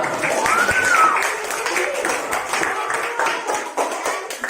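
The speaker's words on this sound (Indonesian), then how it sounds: "Sekali lagi boleh applause, tepuk tangan buat kalian semua." Audience applause for a youth group, moderate clapping throughout with a voice rising briefly at the start and talk mixed in.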